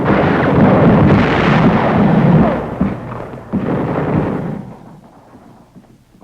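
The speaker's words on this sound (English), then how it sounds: "the shelling continues unabated for 6 hours" Heavy World War II artillery shelling in the US Army fight for Frankfurt in March 1945, heard as dense, loud rumbling booms that roll together for several seconds, ease off briefly, return, and then fade; no talking.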